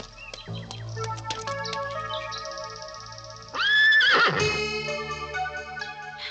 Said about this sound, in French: Tu entends ça? Des chevaux.